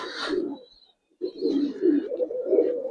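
Giribaz coloring pigeons, including a hen from Narayanganj, give close, throaty coos in two bursts separated by a short pause, with a faint higher chirp in between.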